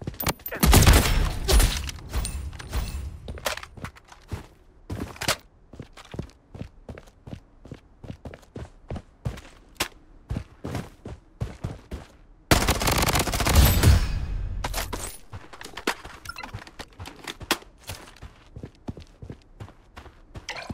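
Rapid bursts of automatic gunfire from an MP5 in the Blood Strike shooter game, loud and close, with dense fusillades at the start and again around the middle, scattered single shots and footsteps in between.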